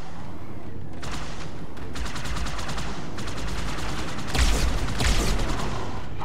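Beam rifle fire in the Halo video game, sharp repeated bursts of shots in rapid clusters, loud and close with a denser volley near the end, no talking.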